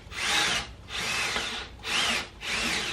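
A power drill bores a hole into a wooden trestle, coming out as four short whining bursts with brief pauses between them, close and clear with no voices.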